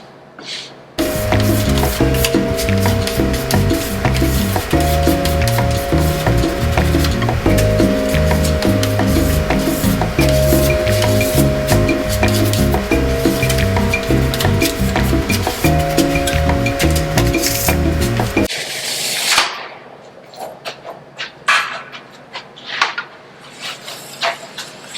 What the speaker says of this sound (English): flipping the scraper a little bit will help you access that wax a little bit easier to clean it up as much as possible.